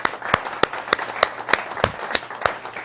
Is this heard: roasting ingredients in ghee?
no